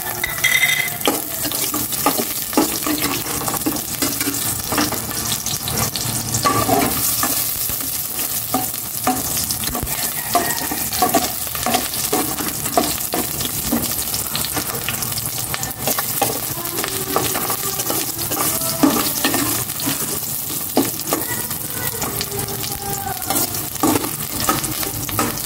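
Onions for pork pinakbet sizzle steadily in a hot pan, a loud continuous frying hiss broken by frequent stirring scrapes and clatter, with no one speaking.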